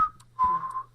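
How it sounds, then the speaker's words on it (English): A person whistles a clear, fairly high tune in two short phrases, a brief opening note followed after a pause by a longer, steadier run, close and alone with no talking. "I'll just whistle my way out."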